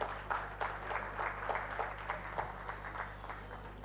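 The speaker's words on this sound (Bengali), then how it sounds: "সেই মুহূর্তটাকে যাপন করার জন্য খুব ভালো জোরে করতালি।" An audience at a book release event applauds in a continuous clatter of many hands, moderately distant and steady over a low constant hum, with no voices.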